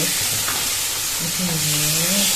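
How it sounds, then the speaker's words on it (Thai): Sour curry (kaeng som) boiling in a pot, a steady loud bubbling hiss that runs throughout, with a faint low tonal hum rising partway through. "นี่เดือดพุดพุดพุดพุด"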